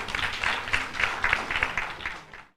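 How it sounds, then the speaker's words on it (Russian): A village house-of-culture audience in Perm Krai applauds a performer with a short, lively burst of clapping with a pulsing rhythm, ending abruptly after a little over two seconds. "Ваши аплодисменты"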